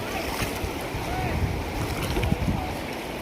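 A fast-flowing river at a picnic spot on the India–Nepal border rushes steadily in a dense, broadband wash of water, loud and continuous across the whole stretch with no voices.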